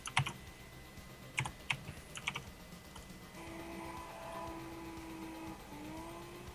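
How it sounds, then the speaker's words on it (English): Computer keyboard typing during a racing game qualifying broadcast: a few quick clusters of crisp key clicks up front, then a steady engine drone takes over with one brief pitch shift near the end. "I like being able to hear your keyboard as you're doing this too"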